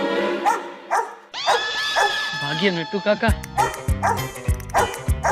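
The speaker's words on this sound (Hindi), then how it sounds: "ये कुत्ता तो कितना भौंक रहा है" A dog barks repeatedly in quick, loud bursts near the microphone, mixed with voices talking and calling over the barking.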